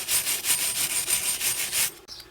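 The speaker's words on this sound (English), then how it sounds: "So clean it with a wire brush." A wire brush scrubbing grit and rust from the brake hub of an Opel or Vauxhall Vectra B: about seven rapid, harsh back-and-forth strokes in quick rhythm, loud and close, then a brief metallic knock.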